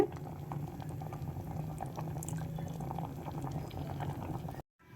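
Chicken simmers in a pot of water for a homemade chicken pickle, a steady dense bubbling boil that runs without break at close range and then cuts off abruptly near the end.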